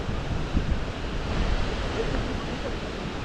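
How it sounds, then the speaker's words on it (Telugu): A thin waterfall drops from a height on the mountain road from Manali to Solang Valley, giving a continuous broadband rush close by, mixed with wind buffeting the microphone. "ఇది కదా వాటర్ ఫాల్స్ అంటే"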